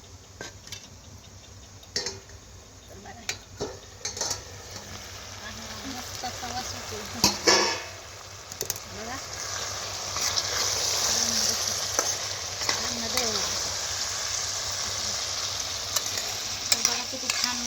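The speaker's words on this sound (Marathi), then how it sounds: "मस्तपैकी असं चिकन आपलं शिजते" Chicken sizzling as it cooks in a pot, a steady frying hiss with occasional utensil scrapes and clinks, close and moderately loud, with no speech.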